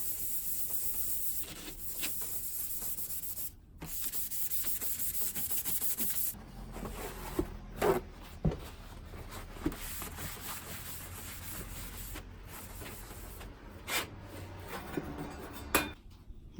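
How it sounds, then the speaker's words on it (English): A scrubbing sponge soaked in alcohol solution scours a panel, with close, uneven rasping strokes in bursts and brief pauses, some sharper scrapes standing out near the end. "Give it a little wash. Just an alcohol solution. And a scrubbing sponge."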